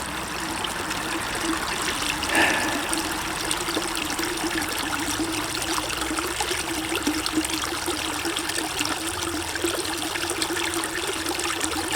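Water trickles and burbles steadily over stones in a small creek, a soft, continuous outdoor wash with no voices and no change in rhythm.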